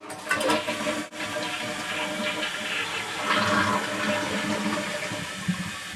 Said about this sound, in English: We're going to give it a test flush